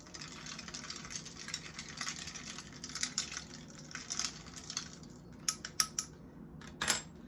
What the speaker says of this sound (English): we're gonna take our straw, and I have these stainless steel straws, and we're just gonna give it a good stir